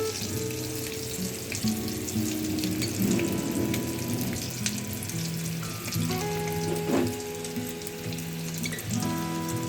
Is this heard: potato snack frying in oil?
yes